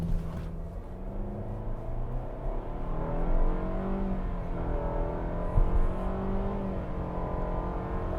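A 2025 Mitsubishi Outlander with a CVT launching hard, its engine droning in a steady, rising hum from inside the cabin, loud and continuous with no gear changes and no talking.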